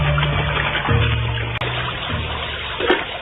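Steady rushing river water flows continuously beside a riverbank as a radio drama sound effect, with a low tonal hum underneath throughout.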